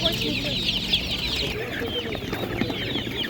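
Chicks and hens cluck and peep at an outdoor animal market, with busy high chirping in the first half and softer clucks later, close by amid background market noise and murmured voices.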